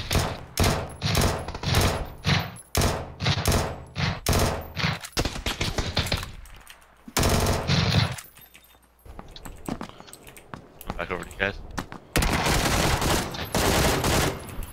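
Rapid bursts of gunfire from the battle-royale video game PUBG, loud and close, with repeated volleys and automatic fire breaking off briefly before resuming in heavy salvos.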